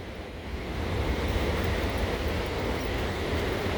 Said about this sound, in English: you can still see and hear the river